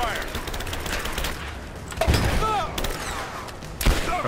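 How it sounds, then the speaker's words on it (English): Bursts of gunfire from a third-person action game set during a cave escape, with rapid shots and a couple of heavy thumping impacts at a steady loud level under ongoing game sound. "I'm under fire."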